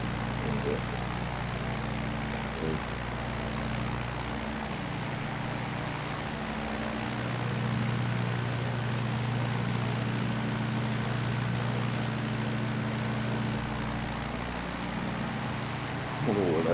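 The Tanarg 912 trike ultralight's engine in Microsoft Flight Simulator gives a steady, droning propeller hum that holds constant throughout, with a slight shift in tone partway through.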